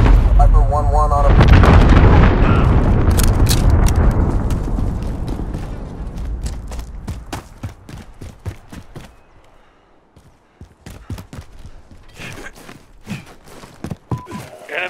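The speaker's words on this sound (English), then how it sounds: "Allied cruise missile on the way." A cruise missile strike in Call of Duty: Modern Warfare, a massive close explosion with a long roaring rumble that slowly fades, followed by scattered gunshots and distant crackling fire.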